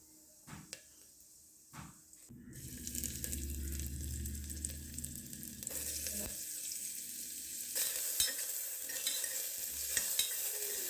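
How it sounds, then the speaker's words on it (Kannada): Cumin, garlic and chopped carrot hit hot ghee for a tempering, starting with a few sharp clicks and then settling into a steady close sizzle with stirring scrapes, while a faucet runs briefly near the end. "ಒಗ್ಗರಣೆಗೆ ತುಪ್ಪ ಹಾಕ್ಕೊಳತ್ತೀನಿ. ಜೀರಿಗೆ, ಬೆಳ್ಳುಳ್ಳಿ ಮತ್ತು ಕ್ಯಾರೆಟ್ ಏನು ಹೆಚ್ಕೊಂಡಿದ್ದೆ ಅದನ್ನು ಹಾಕತ್ತೀನಿ."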